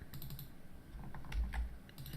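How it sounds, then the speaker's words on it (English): Quick clatter of keys on a computer keyboard, a short run of close, light taps with a brief pause in the middle, no talking. "I have to type it in the exact case."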